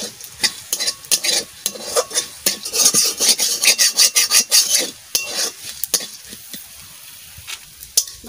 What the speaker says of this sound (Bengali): গোলমরিচ, ধুইনা আর জিরা একসাথে আমি ওই মাছ ভাজেছি ওই তেলে আমি ভেজে নিচ্ছি।